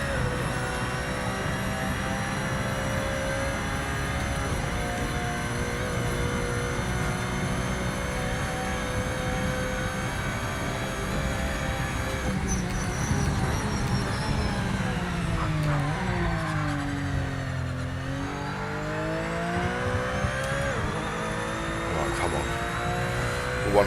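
A race car in Project Motor Racing holds a steady engine drone through a lap, the pitch rising and falling with gear changes and braking, while a voice talks over it.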